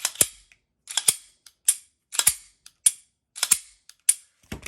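A handgun trigger resetting makes sharp, snappy, close clicks, about a dozen of them in irregular pairs and clusters with short silent gaps between.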